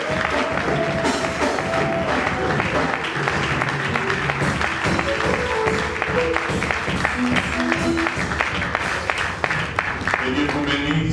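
A congregation at a French-speaking church conference cheers and claps to welcome an apostle, loud continuous applause mixed with music and voices throughout.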